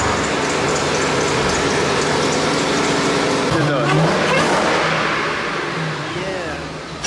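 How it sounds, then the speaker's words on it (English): A Dodge Durango SRT fitted with a Whipple supercharger and an otherwise stock engine, making over 600 horsepower, revs loudly and steadily up close, its roar sustained throughout. A voice speaks briefly over it. "It has a Whipple supercharger on it, but it doesn't have anything done internally to the motor"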